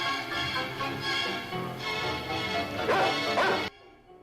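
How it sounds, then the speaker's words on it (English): A dog in a horror film barks and yelps loudly and continuously, layered with a dense film soundtrack and crashing effects, before cutting off abruptly near the end. "the dog is just hauling ass and catches right up to him."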